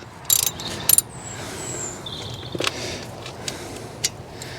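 A ratchet loosens a front brake caliper bolt on a mk1 Audi TT, giving a few quick, sharp clicking bursts close by over a quiet background hum.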